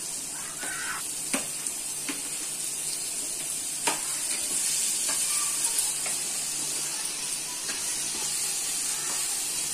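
Tomatoes fry in hot oil for fried rice, giving a steady broad sizzle with a few sharp ticks and scrapes as they are stirred in the pan, close and continuous with no talk.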